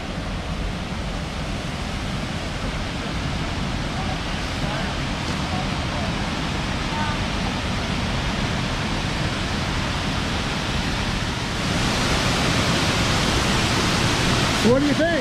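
Steady roaring rush of Caney Creek Falls in Bankhead National Forest fills the scene, loud and constant, growing slightly stronger near the end.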